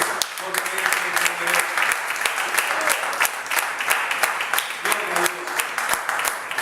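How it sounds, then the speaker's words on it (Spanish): A church congregation applauds with a steady wash of clapping, with voices audible over it throughout. "brinden un fuerte aplauso a Él"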